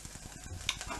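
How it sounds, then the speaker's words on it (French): Onions browning in olive oil in a pan, a soft, steady sizzle with faint crackles and light stirring scrapes, quiet and close. "pendant ce temps que mes oignons roussissent"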